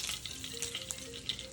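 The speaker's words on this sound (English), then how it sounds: "rescue my abalones out of the frying pan" Abalone sizzling in a frying pan, a continuous crackling fry with faint high spatters and a low steady hiss, close and quiet, no talking.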